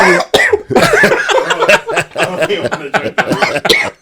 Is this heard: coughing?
yes